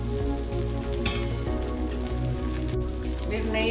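Rava dosa batter frying on a hot pan with oil, giving a steady, even sizzle and crackle that holds throughout at moderate loudness, with faint background hum.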